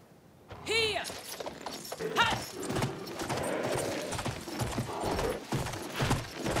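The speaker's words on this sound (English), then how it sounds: "I'm on a horse." Horse hooves clip-clop steadily in the video game Battlefield 1, with a short whinny near the start and clattering mechanical noise underneath.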